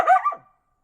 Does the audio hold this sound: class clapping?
no